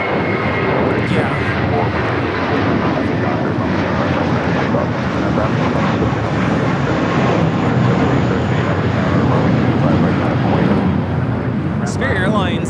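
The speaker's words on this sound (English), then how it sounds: "Spirit Airlines 1866 taking off to Milwaukee on the A321" A Spirit Airlines Airbus A321 takes off from Los Angeles airport with a steady, loud, broadband jet roar that holds throughout, while people talk faintly over it.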